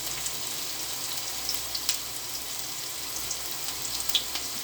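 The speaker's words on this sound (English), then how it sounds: "Here I have my onions frying" Onions fry in a pan for dumpling soup, giving a steady, close sizzle with faint crackles and small pops throughout and no voices.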